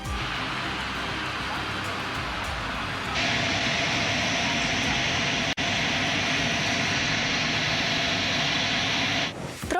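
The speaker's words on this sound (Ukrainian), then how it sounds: "над головами президентів пролітають американські бомбардувальники" A loud, steady roar of large American bomber engines passes overhead, sustained throughout, with a crowd murmuring beneath it.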